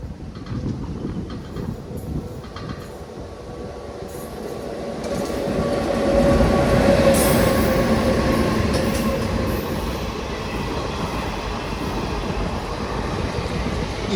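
NMG rake train passing through Ettimadai railway station on a rainy, foggy morning, a rumbling roll of wagons that swells as it draws near and stays loud, with clattering wheels and faint squeal.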